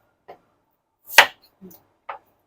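A few sparse knife chops through shallots on a cutting board, one sharper and louder than the rest, spaced irregularly with quiet gaps between.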